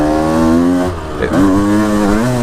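A motorcycle engine revs hard and steadily under acceleration, its pitch dipping briefly and rising again as the rear wheel slips on a slick surface near the Marne, loud and close with no talk.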